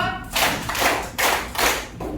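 Fifth-grade schoolchildren in a classroom clap a four-beat pattern together, four loud group clap bursts in an even rhythm, close and with no talk over them.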